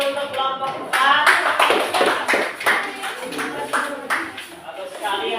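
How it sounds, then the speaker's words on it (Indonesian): Group clapping for group 4 in a classroom discussion session, dense claps through most of the stretch at close range, with voices of students mixed in over it. "kita kasih tepuk tangan untuk kelompok 4"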